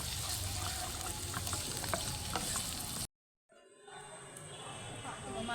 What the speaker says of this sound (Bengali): পিৎজাতে দেওয়ার জন্য আমি মাশরুমটা একটু ফ্রাই করে নিচ্ছি